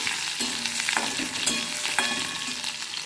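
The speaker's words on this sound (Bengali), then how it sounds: "কাঁচা লঙ্কাটা একটু ভেজে নিই" Green chilies sizzle steadily in hot oil with black cumin seeds and garlic, with occasional scrapes of a spatula stirring the pan, heard up close with no voices.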